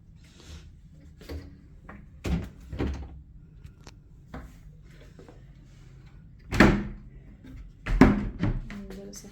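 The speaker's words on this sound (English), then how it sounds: "Let's open this wardrobe." Wardrobe doors and drawers in a hotel room at a resort in Ooty are opened and shut, giving several close knocks, slides and thuds at irregular intervals. Quiet room tone fills the gaps between them.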